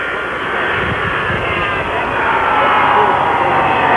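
A jet airplane approaches at Dallas Love Field on November 22, 1963, its engine roar a loud, broad, steady rush that swells slightly as it nears, with a faint voice murmuring underneath.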